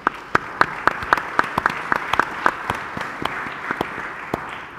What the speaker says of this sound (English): I'd like you to give them a big round of applause,